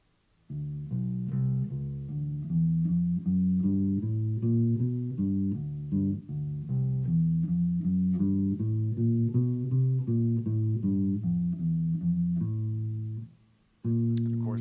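A walking bass line plays over the bridge of a tune, moving through the chord changes in steady, even quarter notes. It is loud and close and heard alone, without any talking.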